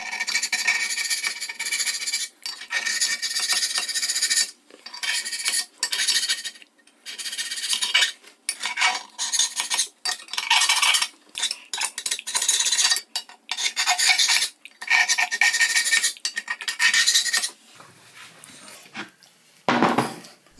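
Scraper rasping paint off the ways of a 7x12 lathe bed, repeated loud harsh scraping strokes of one to two seconds each with brief gaps, close and steady, ending in a few softer scrapes; no speech.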